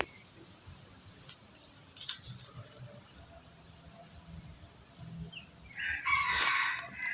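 A gamefowl rooster with a bantam-like call crows once near the end, clear and fairly close, over faint crickets and outdoor background noise.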